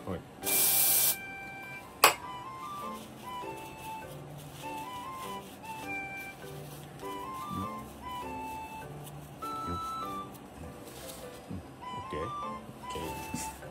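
Degreaser sprayed onto the screw threads of a YSS rear shock during an overhaul, one loud hissing burst of about a second near the start, then quieter workshop handling sounds and clicks with speech over them.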